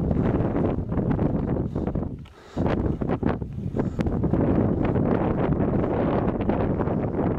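Wind gusts blow hard across an exposed winter mountainside on Dirfys, buffeting the microphone in loud, rough bursts with a brief lull partway through, with no talking.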